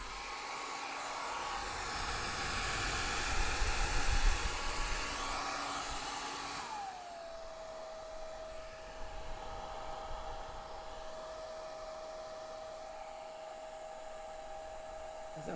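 A hair dryer blows over wet paint on a flower painting with a close, steady whirring hum. Partway through, its pitch drops and settles to a lower, quieter tone that runs on to the end.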